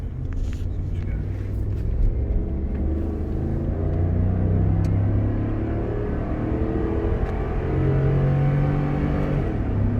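A car, either a manual Hyundai Sonata or an SS Camaro, launches in second gear, its engine droning in a low, steady rumble that holds loud for the whole stretch, heard from inside the cabin.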